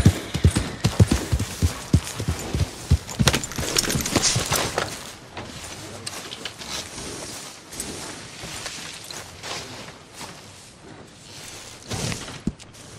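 Horse hooves clip-clopping in a video game, a steady, close rhythmic patter of hoofbeats, strongest at the start before settling into a quieter continuous walk.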